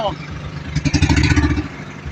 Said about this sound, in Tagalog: malakas yung vibration ng makina